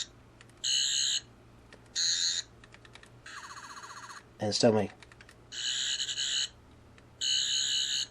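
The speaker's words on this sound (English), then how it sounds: "button on the bottom makes its sounds" A Sonic Screwdriver toy sounds off in several electronic bursts, mostly steady high buzzing tones with one warbling sweep in the middle, loud and close, while a person speaks briefly.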